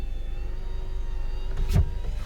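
An electronic parking brake motor on a 2019 Honda Civic whirs with a steady hum for about two seconds, ending in a brief louder burst as it engages, close by with no talking.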